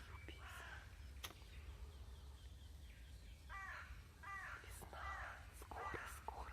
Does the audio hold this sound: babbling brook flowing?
no